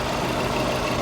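A Subaru GDB Impreza WRX STI engine idles with a steady low rumble through its unequal-length exhaust, close and unchanging for a brief moment.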